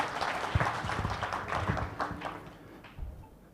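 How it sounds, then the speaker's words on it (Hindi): Brief applause from an audience at an awards event, a scattered patter of claps that fades out within a few seconds. "एक बार तालियां तो बनती है यार उनके"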